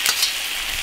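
Beef is stir-fried in an iron wok with spicy sauce and aromatics, giving a brief burst of sizzling with a couple of quick spatula scrapes.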